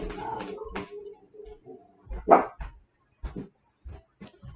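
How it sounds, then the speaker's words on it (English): A guard dog barks in short, sharp bursts spaced irregularly over a few seconds, fairly close, with a muffled, indoor quality and a louder single bark near the middle. "Maisie, the guard dog, is at it."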